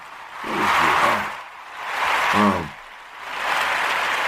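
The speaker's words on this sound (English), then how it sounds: "Let's give him a round of applause. Let's clap it up for him" Audience applause after a motivational talk, swelling in broad bursts between short pauses, fairly loud and close with a few low voiced sounds mixed in.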